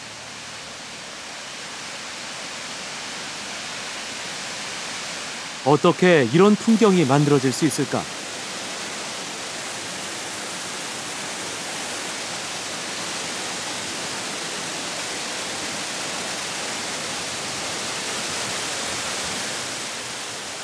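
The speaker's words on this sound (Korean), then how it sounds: "엄청난 높이에서 떨어져 내리는 폭포 앞에 멈춘다." Steady broadband roar of a very tall waterfall in El Chaltén, Argentina, continuous and fairly loud throughout, with a brief stretch of a person speaking over it near the start.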